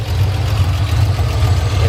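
A 1970 Triumph TR6 with SU carburetors idles steadily, a loud, close, even low engine rumble with no talking.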